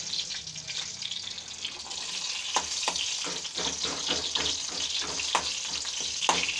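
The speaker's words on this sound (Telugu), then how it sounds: "ఈ వెల్లుల్లి బాగా వేగింది అనుకోండి" Garlic frying in oil gives a dense, steady bubbling sizzle with frequent small crackles and pops throughout, close and fairly loud, and no voices.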